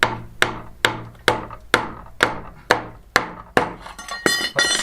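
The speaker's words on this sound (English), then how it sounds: "Give it a tap in, if I can find my hammer" Close, sharp hammer taps ring out about ten times in a steady rhythm as a stone is knocked into place during renovation of an old finca in southern Spain, each strike leaving a short metallic ring.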